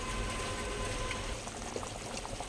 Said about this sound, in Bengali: এই ঝোলটা একটু ফুটুক